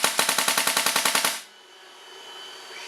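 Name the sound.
Azodin Blitz paintball marker firing with eyes turned off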